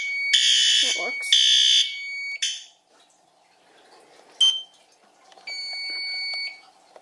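A fire alarm blares in two long bursts, then a shorter one during a system inspection, followed by a brief chirp and a softer sustained tone, with a voice speaking briefly in a quiet room between them.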